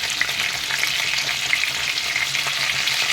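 Potatoes dusted with turmeric fry in hot oil with a dense, steady sizzle, stirred lightly throughout with small scraping accents, close and alone.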